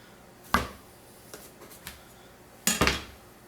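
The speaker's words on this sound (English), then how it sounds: "I just slice down each side." A knife cuts down the sides of a fresh pineapple on a board, giving two sharp close knocks and a few softer taps between them, with no talk.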